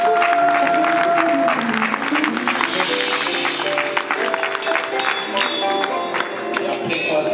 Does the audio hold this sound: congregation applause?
yes